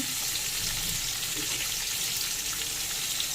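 Potato, eggplant, pointed gourd and pumpkin frying together in a pan: a dense, steady sizzle with a watery crackle, close and constant, with no voices.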